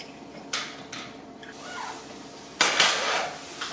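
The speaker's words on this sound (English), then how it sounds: "What I'm going to be doing now is I'm going to drain out all that grease." Grease being drained from a cooking pan into a ramekin, with several sharp metal-on-ceramic clinks and scrapes, a couple of short ones early and a louder, longer rattling pour near the end, close by.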